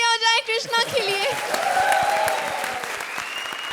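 A studio audience on the Comedy Circus comedy show claps loudly and steadily after a brief spoken voice at the start, and the applause fills the rest of the moment.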